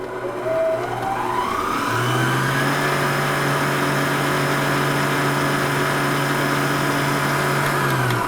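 A Litchi stand mixer fitted with a whip attachment ramps up to whipping speed and holds a steady, loud motor whine with a constant hum.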